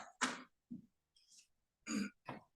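A few short, dry throaty coughs and throat-clearing bursts at a council meeting, separated by brief pauses, close and fairly quiet with no talking.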